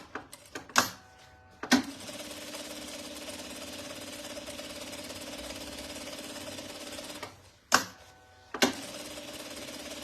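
A sewing machine stitching a crossbody bag with fine, thin thread runs in one steady, close mechanical whir for about six seconds, with sharp clicks and knocks before it starts and after it stops.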